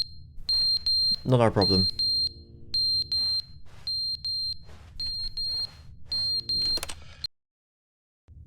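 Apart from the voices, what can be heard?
smoke alarm going off in the video game The Stanley Parable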